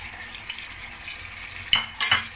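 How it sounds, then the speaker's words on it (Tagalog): Fried potato and carrot pieces are tipped into a pot of beef caldereta stew, a low simmering sizzle followed by two sharp clattering drops and splashes near the end, close by, with no voices. "Ngayon, ilalagay ko na yung pinirito kong potato and carrot."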